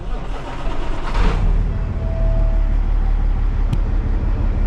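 A car engine is started: a brief burst as it fires up, then a steady, loud, low idle rumble that continues close by.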